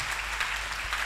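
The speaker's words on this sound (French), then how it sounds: "On acclame le Seigneur." A congregation applauding during an end-of-year church service, a brief steady burst of clapping from a crowd in the hall.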